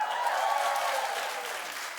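Studio audience applauding steadily at a daytime talk show, a dense, even wash of clapping that stays loud throughout with no speech over it.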